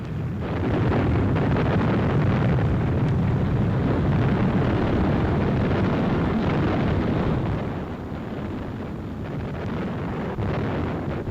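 Bombs dropped from wartime bombers explode on targets as a continuous heavy rumbling roar, dense and loud throughout with no separate blasts standing out, in the style of an old newsreel soundtrack.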